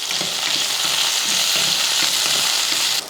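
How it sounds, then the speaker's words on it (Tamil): About a hundred grams of okra sautéing in a little oil, a loud, close, continuous frying sizzle with faint rhythmic stirring scrapes throughout, no voices. "கொஞ்சமாக எண்ணெய் ஊற்றி ஒரு நூறு கிராம் அளவுக்கு வெண்டைக்காயை போட்டு வதக்கிக்கலாம்"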